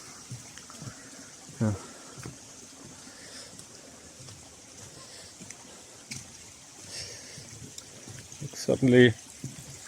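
A stream swollen after overnight rain rushes through the Drachenschlucht gorge near Eisenach, a steady broad wash of flowing water heard at a distance while people talk briefly over it.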